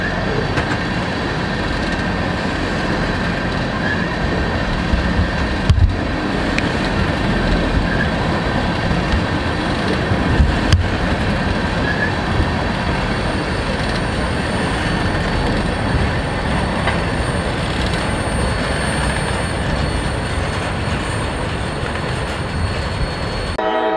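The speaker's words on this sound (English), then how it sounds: "train's about to stop." A freight train rolls through Folkston as it comes to a stop, a loud, steady rumble of rail wagons and wheels, close by, with faint squeal and clatter and no talking.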